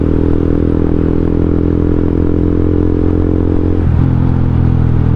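A 2017 Honda CBR150R motorcycle fitted with an Akrapovic M1 exhaust muffler, revving loud and close with a raspy, throaty drone and a dip in pitch near the end, with no talking.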